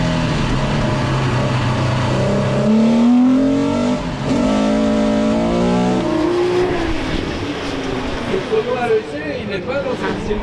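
Rallycross race cars, including a Porsche, roar away from the start at Mayenne, engines revving hard and loud, with a French commentator talking steadily over the din.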